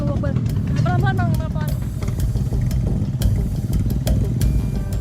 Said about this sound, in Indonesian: Pengojek di sini harus ekstra keras bekerja mengendalikan motor karena medan berat ini sangat rawan celaka.